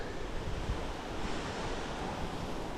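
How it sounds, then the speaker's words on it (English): Strong wind roars steadily past the microphone on a highway during a bike-packing ride, a dense, unbroken rush with low buffeting rumble and no voices. "That wind's getting meaner. Blowing in something."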